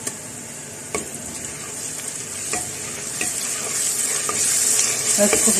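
Ginger and garlic fry in a pan for restaurant-style boneless chicken handi, a continuous sizzle that grows louder, broken by occasional utensil clicks and stirs.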